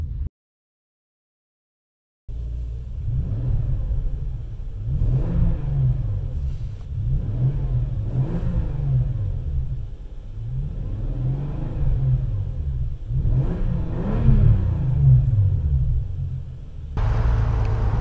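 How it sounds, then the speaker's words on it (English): A 2010 Bentley Continental GT Speed engine is revved in about five rising and falling blips over a steady idle, close and loud, after a brief silence. "Let's give this car some revs"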